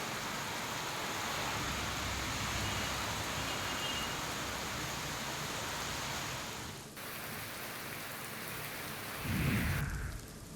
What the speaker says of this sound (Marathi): पहाटेपासूनच जिल्ह्यामध्ये सर्वदूर पावसाची रिपरिप पाहायला मिळते